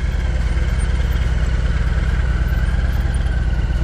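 A Harley-Davidson Heritage motorcycle makes a slow-speed U-turn, its engine holding a loud, steady low-pitched idle-like rumble with an even pulsing beat and no revving.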